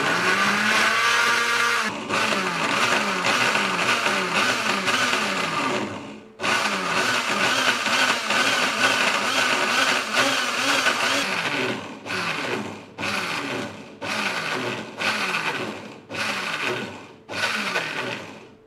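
A kitchen blender blending banana runs loud and close, its motor whirring steadily for several seconds, then starting again in a series of short bursts and pulses near the end.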